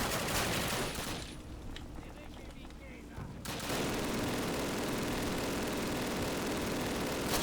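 Dense full-auto FG42 rifle fire in a Call of Duty D-Day level rattles loud and continuous, dropping away briefly midway before resuming as a sustained roar of gunfire.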